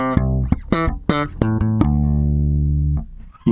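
Bass guitar plays part of a riff: a run of short, punchy plucked notes, then one long sustained note ringing out before a brief final pluck, close and alone.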